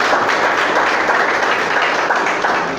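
A church congregation claps and cheers in worship, a dense continuous wash of applause from a crowd filling the whole stretch without pause.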